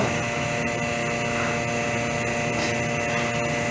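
A vacuum pump draws air out during prosthetic work, giving a steady, continuous mechanical hum and hiss that holds at an even level from start to finish, with no talking over it.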